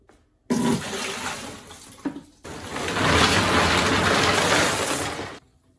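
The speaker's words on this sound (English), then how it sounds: "add 3 gallons of water and salt into the storage tank" Water gushes into a water softener's brine storage tank in two pours, a short splashing run then a longer, louder steady rush that cuts off at the end.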